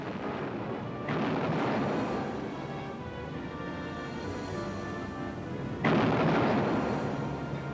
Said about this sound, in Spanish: los barcos británicos se acercaron primero a 4 millas y luego a 3 mientras disparaban salva tras salva